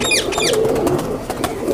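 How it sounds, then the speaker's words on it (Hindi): Chuha-breed high flyer pigeons coo in soft, rolling bursts close by, with quick chirping bird calls over the top. "ये चूहा ब्रीड काशिफ भट्ट साहब के कबूतर"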